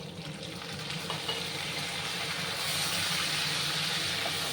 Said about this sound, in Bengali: এবার আমি সজনে ডাঁটাগুলো দিয়ে দেবো।